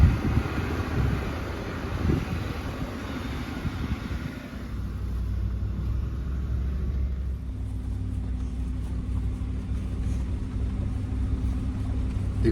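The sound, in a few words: pickup truck driving up a mountain road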